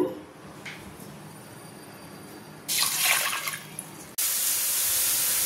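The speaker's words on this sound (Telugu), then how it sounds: "ముందుగా ఈ కందిపప్పుని శుభ్రంగా కడిగి ఉంచుకుందాము" Toor dal (pigeon peas) being washed in water, with a steady tap stream and sloshing rinses that swell into a brighter, louder gush, close up.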